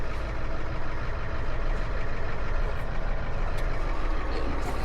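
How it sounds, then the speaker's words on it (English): A tow truck with an expensive car on the hook reverses, its diesel engine droning loud and steady at close range, with a few faint high ticks or beeps over the rumble and no talking. "Hate backing in off the passenger side of the truck"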